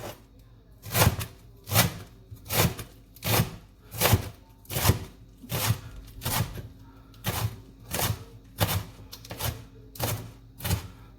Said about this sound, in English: So when we finely shred them, we can use things like cabbage and onions